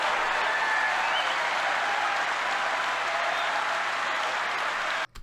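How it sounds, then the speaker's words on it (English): A crowd at an NRA convention in Texas claps in a steady, even wash of applause that holds constant throughout and cuts off abruptly at the very end. "listen to the applause"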